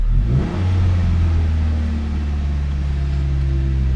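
A Ford Ranger's engine revs up to a steady, loud hum at about 3,500 RPM during an induction service, held continuously close by, with no talking.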